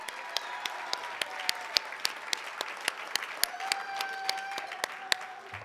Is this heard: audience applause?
yes